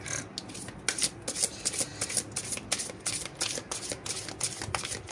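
Tarot cards being shuffled by hand, a close, soft series of riffling and slapping bursts in an irregular rhythm, with no talk.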